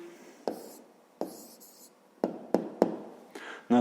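A pen scratches out the answer to a fifth-grade math exercise on paper in a few short, close strokes separated by pauses, with a couple of sharper taps near the end.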